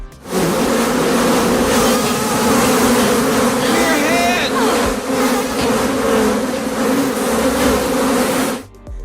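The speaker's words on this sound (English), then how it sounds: "Mulder and Scully running from thousands of swarming bees" A dense swarm of bees buzzes loudly and continuously, a thick droning hum with no voices, ending abruptly.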